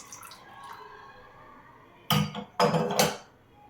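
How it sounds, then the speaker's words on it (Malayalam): Hot water poured over Nescafe coffee powder in a cup, then briskly stirred, with two short loud bursts of splashing and clinking close up after a quiet stretch. "ഇനി ഇതിലേക്ക് നമുക്ക് കുറച്ച് ചൂടുവെള്ളം ഒഴിച്ചിട്ട് ഇതൊന്ന് കലക്കിയെടുക്കാം"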